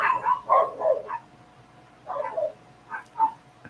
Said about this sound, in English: the dogs can be kind of loud